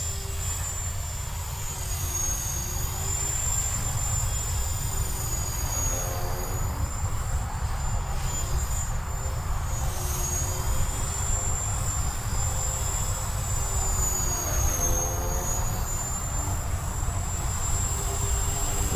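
An RC helicopter, a cheap-electronics T-Rex clone, flying and coming in to land, giving a steady close high-pitched rotor and motor whine with a low drone underneath, wavering slightly in pitch throughout and without speech.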